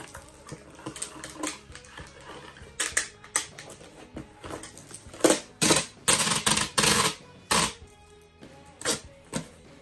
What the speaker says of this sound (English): take my tape and just tape it up